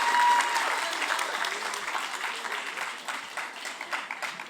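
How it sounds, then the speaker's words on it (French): Audience at a 2024 award ceremony applauds the finalists as they are called up, a steady wash of clapping that swells at the start and fades slowly, with a few voices mixed in. "Ils méritent aussi qu'on les applaudisse."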